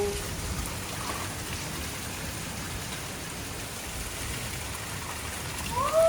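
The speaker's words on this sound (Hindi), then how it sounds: "देखो ये बारिश हो रही है" Steady rain falling outdoors, a dense even hiss of drops on surfaces that continues throughout with no pauses.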